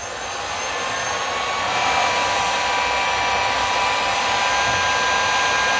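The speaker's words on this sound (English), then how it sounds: "We're going to heat shrink this." A heat gun blows in a steady, loud broadband roar, shrinking heat-shrink tubing onto a Wilson Shift tennis racket grip; the airflow holds constant throughout with no talking.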